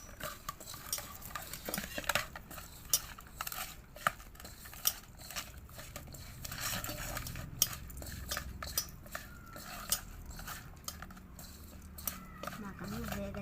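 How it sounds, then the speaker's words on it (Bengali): Hand-mixing a marinade of chilli, onion and oil in an iron wok for prawns with bottle gourd leaves, giving wet squelching and scraping sounds in an irregular rhythm with occasional clinks, under soft talk. "এখন মাখাবো।"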